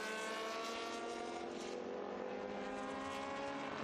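A Porsche 911 races among historic cars at the Estoril circuit, its engine a loud, sustained, steady drone with a rich harmonic whine that shifts slightly in pitch as it passes, continuous throughout with no voices.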